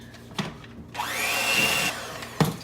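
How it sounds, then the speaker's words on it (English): An electric blender whirs for about a second while mixing an egg into pumpkin cheesecake batter, rising to a steady high whine. Soft knocks from handling come just before and after. "I'm going to go ahead and add 1 egg at a time and blend it in"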